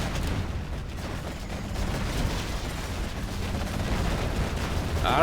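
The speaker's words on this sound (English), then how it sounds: "A lot of nuke battle masses just blow up there all together at once." Dense, continuous rumble of explosions and gunfire from a large battle in the real-time strategy game Command & Conquer Generals Zero Hour, loud and sustained throughout with no clear breaks.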